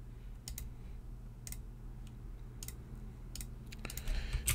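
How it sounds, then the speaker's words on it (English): Computer keys mashed at random by hand, a sparse run of close, light plastic clicks and taps with short pauses between them, growing busier toward the end over a steady low hum, no voices. "So I'm just going to mash a bit on the keyboards."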